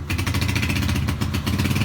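A dirt bike engine cranks and tries to start, giving a steady rough mechanical clatter with rhythmic pulses, fairly close and continuous for about two seconds.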